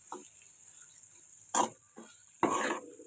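Food frying in a pan during home cooking for a Shravan Friday Lakshmi puja, with a steady high sizzle underneath and a few short bursts of stirring and scraping.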